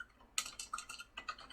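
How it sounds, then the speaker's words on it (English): Someone types a short entry on a computer keyboard, a quick burst of crisp key clicks in two small clusters with a pause between, close and alone in a quiet room. "if I type in book list"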